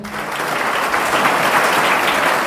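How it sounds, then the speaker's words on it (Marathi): Students in a school audience break into loud, sustained applause at a poetry event, the many hands swelling quickly into a steady, full roar of clapping with no talk over it. "टाळ्या वाजवा एकदा"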